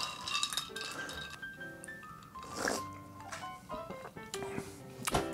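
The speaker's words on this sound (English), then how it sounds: "So we're gonna top that with Topo Chico. That's it. That's all it is. We're gonna stir that up a little bit." Ice clinks and rattles in a glass as a keto cocktail topped with Topo Chico sparkling water is stirred, bright chiming taps scattered irregularly and up close, with no one talking.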